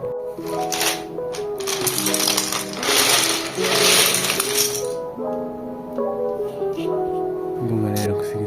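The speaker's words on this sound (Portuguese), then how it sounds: "Separar as teclas agora." Plastic pudding keycaps from an Attack Shark K86 keyboard being pulled apart and sorted, with busy clicking and clattering of small plastic pieces close by and a voice heard in the background.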